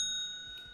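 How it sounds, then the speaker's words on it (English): A single bell ring with a sustained, ringing tone that fades over under a second, quiet and alone with no talk. "That was a solid bell ring too."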